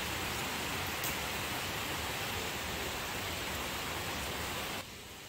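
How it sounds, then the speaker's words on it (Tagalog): Heavy rain pours steadily on a Sunday morning at home, a dense, even broadband hiss that stays loud and constant before dropping slightly in level near the end. "lakas ng ulan"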